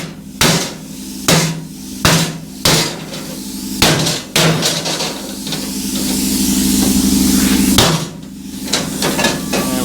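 A big hammer pounds metal while a blacksmith forge is being built: a run of loud, sharp strikes at uneven intervals, then a sustained hissing, rumbling stretch before a few more close blows.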